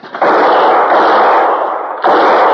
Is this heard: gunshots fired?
yes